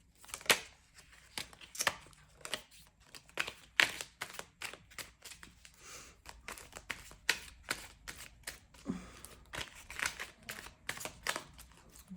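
Cards are shuffled by hand in a quiet room, a run of soft, crisp riffling bursts and slaps repeating irregularly, close and fairly faint, with no voices.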